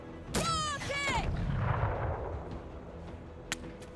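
A rocket launcher fires in the video game Menace as a broad, rumbling blast that swells and fades over about a second, heard just after a short spoken exclamation.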